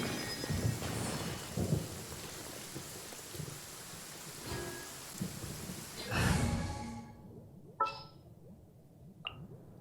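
Rain falls steadily in the Genshin Impact game world, with several rumbling thunder swells and a louder roll near the middle before the storm fades to near quiet, with a couple of brief sharp sounds afterward.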